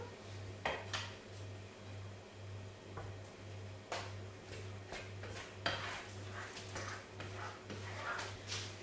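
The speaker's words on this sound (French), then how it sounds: "Je mélange." Caramel being stirred into cooked apples in a pan for an apple and salted-butter caramel tiramisu, heard as scattered utensil scrapes and clinks against the pan over a steady low hum, moderately close.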